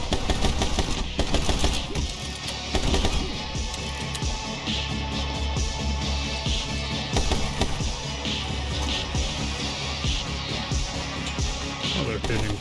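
Rapid automatic gunfire from the action game My Friend Pedro rattles almost without a break, dense and loud over a steady music bed.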